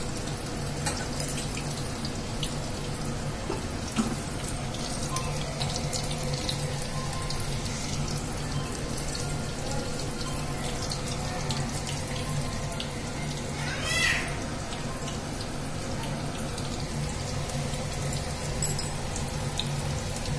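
Raw banana bajji sizzling as it fries in hot oil, a steady close bubbling hiss running evenly throughout with no pause.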